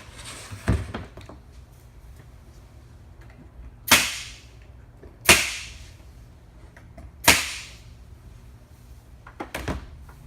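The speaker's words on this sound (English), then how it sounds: "I'm just gonna staple it in place" A staple gun fastening a floater frame in place in a wood shop fires five or six sharp, loud snapping shots spaced a second or more apart, each with a short ringing tail, and no one talks.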